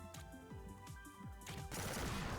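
Rapid repeated electronic shooting in the space video game StarVaders, with stuttering laser bursts over synth music, building to a loud noisy blast near the end.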